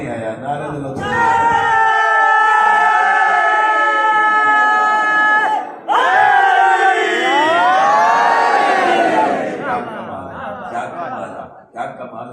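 A large crowd at a religious gathering raises loud chanted slogans in sustained voiced calls, broken by a brief pause before a second surge of chanting that gradually thins out.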